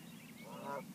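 Geese honk on the water near a pier, a single faint, short honking call rising out of quiet outdoor background.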